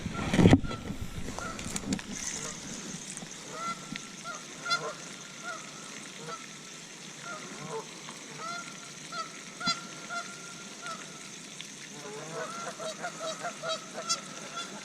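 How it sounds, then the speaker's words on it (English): Geese honk repeatedly outdoors at a pond, a loose chorus of calls at moderate distance with a brief louder burst near the start. "the geese are honking and making noise"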